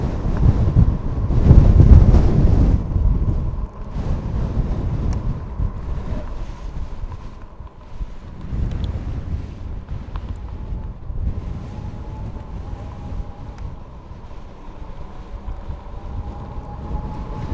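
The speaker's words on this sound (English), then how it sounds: "And the wind really picks up here." Strong wind in an open field during a bike ride buffets the microphone in gusts, loudest early on, then settles into a steady rushing roar across the open space.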